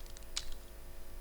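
A single key press on a computer keyboard, one short click, faint over a low hum of room noise.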